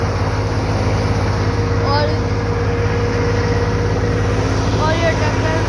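A Massey 2700 tractor drives a thresher machine during a wheat harvest, giving a steady, loud mechanical drone with a low engine hum that stays constant throughout. Faint voices can be heard over the machinery.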